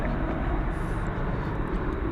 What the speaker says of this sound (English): So the 777 lands on 18 right.